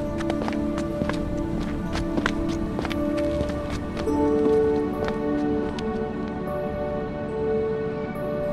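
Footsteps in the video game Minecraft, a rapid run of crisp clattering steps that keeps a steady pace throughout, close and loud with no one speaking.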